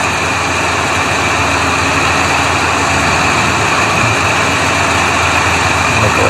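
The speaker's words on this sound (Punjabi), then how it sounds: "ਲੱਗ ਗਿਆ ਥੱਲੇ ਥੱਲੇ ਲੱਗ ਗਿਆ ਟਰੈਕਟਰ" A Massey tractor engine runs steadily at a low idle-like rumble while the tractor is stuck hauling an 18-foot trolley, a continuous heavy drone with no talk.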